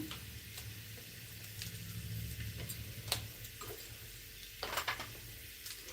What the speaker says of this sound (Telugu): ఫస్ట్ అయితే మెంతికూర వేయించుకుంటున్నాను